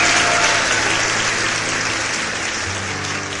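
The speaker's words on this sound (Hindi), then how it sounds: "बच्चों मैम के लिए तालियां से बजाइए प्लीज" An audience of schoolchildren applauds a teacher at a talk show event, dense continuous clapping filling the room at an even, loud level from start to finish.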